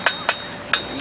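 A farrier strikes a horseshoe with a hammer at a fair demonstration, giving three sharp metallic clinks spaced unevenly over about a second, moderately close.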